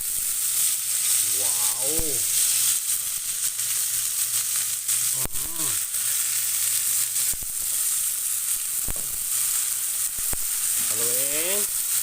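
String beans (sitaw) fry in a pan with a steady bright sizzle throughout, a voice briefly exclaiming over it and a few short sounds of stirring.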